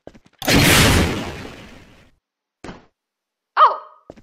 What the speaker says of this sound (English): Alright, we have large red green cone firework.